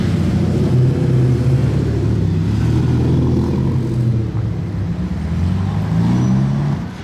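A car drives past on a Monaco street, a loud, steady engine rumble that swells and holds close by throughout, with no voices.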